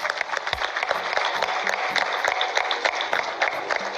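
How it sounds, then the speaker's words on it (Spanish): A crowd claps steadily throughout at a sports awards ceremony, a dense patter of many hands, with faint voices mixed underneath. "por favor, un fuerte aplauso para Renzo Sanguinetti Velasco."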